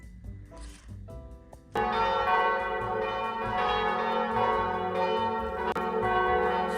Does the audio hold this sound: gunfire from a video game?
no